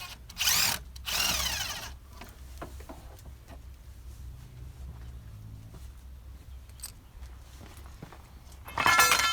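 Two short bursts of a power tool tightening a bolt on the rear suspension of a 2005 Land Rover Discovery 3 during an air-to-spring conversion, then clinks and handling noises, with another brief burst at the end.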